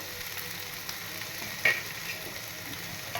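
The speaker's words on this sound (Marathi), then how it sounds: "हे जरा छान असं तुपावर बटाटे परतवून घेते मी" Half a kilo of potatoes sauté in ghee with a low, even sizzle, and one short metallic clink of a spoon against the pot.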